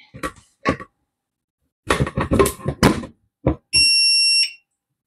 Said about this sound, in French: On entend le bip